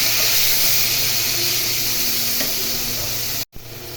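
Ginger, garlic and onion paste frying in a pan, a steady close hissing sizzle that cuts off abruptly near the end, then resumes briefly, with no talk.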